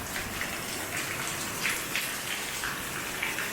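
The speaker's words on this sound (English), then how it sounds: "Yay! Rain" Rain falls steadily outdoors in Jamaica, a soft, continuous hiss of drops with occasional louder patters, fairly quiet and heard alone.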